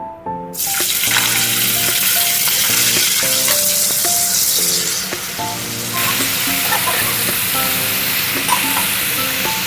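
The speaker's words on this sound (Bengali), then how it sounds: "কড়াইতে তেল দিয়ে নিয়েছি সর্ষের তেল তেলের মধ্যে এবার ফুলকপিটা দিয়ে লবণ হলুদ দিয়ে একটু লাল লাল করে ভেজে নেবো" Cauliflower frying in mustard oil in a wok, with a loud, close, continuous sizzle and hiss throughout and light stirring clatter on top.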